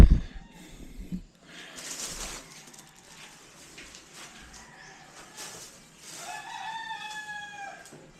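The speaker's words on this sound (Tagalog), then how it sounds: "Tilaok ng manok." A rooster crows in the distance, a drawn-out call near the end, with some clucking and scattered background noises before it.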